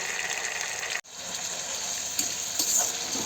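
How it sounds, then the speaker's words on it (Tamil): Chopped tomatoes sauté in a pan for a Kerala-style red kidney bean gravy with coconut, giving a steady close frying hiss and sizzle that cuts out for an instant before resuming. "நான் தக்காளி எடுத்திருக்கேன். அதையும் போட்டு நல்லா வதக்க போகிறேன்."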